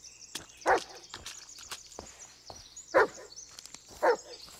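A dog named Bullet in the Blair Witch video game gives three sharp barks spaced a second or two apart, mid-distance, over soft footsteps and forest ambience with no talking.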